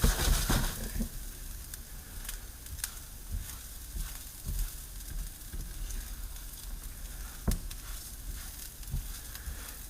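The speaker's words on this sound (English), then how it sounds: "we're going to cook our rice" Rice sizzles and crackles softly in a pan while cooking for lemon rice pilaf, with scattered stirring knocks and pops over a quiet, continuous fry.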